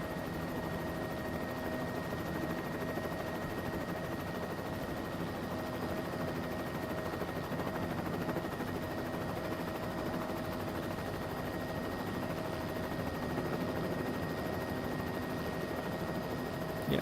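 A military helicopter carrying missiles, heard as a steady, continuous rotor and engine drone with a constant pitched whine that holds at even loudness throughout, moderately distant.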